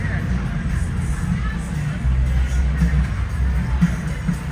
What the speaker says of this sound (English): That's a very light crowd for a Friday night, even with the French Quarter Fest.